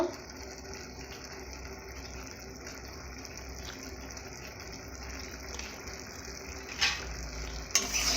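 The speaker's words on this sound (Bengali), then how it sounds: "ভালো করে ভেজে নেবে এইভাবে" Potato filling for Bengali singara fries in a pan with turmeric and chili powder, a soft steady sizzle with occasional stirring scrapes and clinks near the end.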